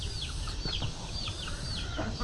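Native Bisaya chickens in a backyard farm, soft repeated clucks and short calls at a moderate distance over a steady low background hum.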